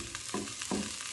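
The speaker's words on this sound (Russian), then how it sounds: "я себе грею гречку и отбивную на сковороде" Buckwheat and a pork chop reheating together in a frying pan, a steady close sizzle with brief louder bursts as the food is stirred.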